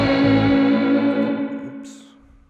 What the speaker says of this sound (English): I'm going to turn it off just so you guys could hear how the drum sounded before